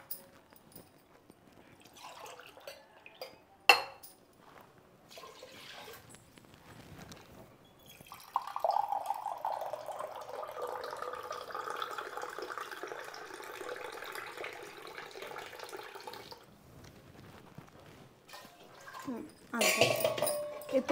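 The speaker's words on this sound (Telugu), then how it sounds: "ఇప్పుడు నేను 2 గ్లాసులు వాటర్ యాడ్ చేస్తాను అన్నమాట." Water poured from glasses into a rice pot while cooking coconut rice with vegetables at home, a steady splashing pour lasting several seconds amid quieter kitchen clatter.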